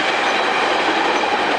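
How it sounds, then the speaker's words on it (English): A train passes beside a San Diego apartment, rumbling steadily with a broad rushing wheel-on-rail roar, moderately loud and continuous with no voices. "And the train."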